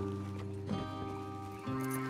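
Horses in Red Dead Redemption 2, a brief snort and shuffling amid steady tonal game ambience, fairly close and unaccompanied by talk.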